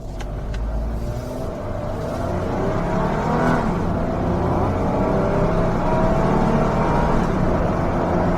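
A 2008 Mitsubishi Outlander SUV engine hums steadily and climbs in pitch as it revs while testing the Tiptronic gearbox, with a constant loud road and cabin drone throughout.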